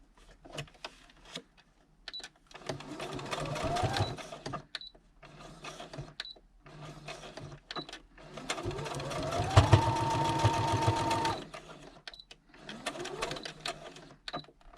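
A sewing machine stitches a lace tab onto a handmade traveller's notebook, whirring in several steady runs of rapid mechanical chatter broken by brief pauses, close and clear.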